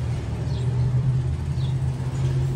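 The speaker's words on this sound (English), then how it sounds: "Loud truck going by." A loud truck rumbles steadily past near a backyard chicken run, a continuous heavy low drone with faint bird chirps above it.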